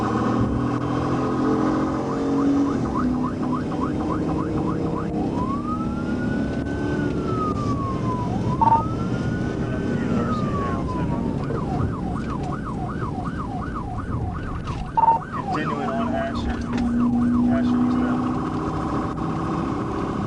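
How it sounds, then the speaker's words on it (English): A police car siren wails and yelps continuously during a high-speed pursuit, switching between rapid warbling and slow rising wails, heard over steady road and engine noise. "He immediately activated his lights and siren to initiate a traffic stop"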